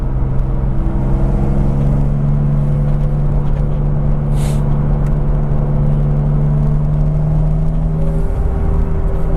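A turbocharged BMW Z3 M Coupe engine pulls under acceleration during wastegate adjustment, giving a loud, steady droning whir with a strong low hum that holds nearly level throughout, with no voices.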